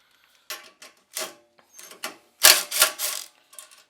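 A ratchet fitted with an 8 mm socket works on the throttle plate bolts of a kart, giving short bursts of rapid clicking separated by brief pauses, close and clear with no talking.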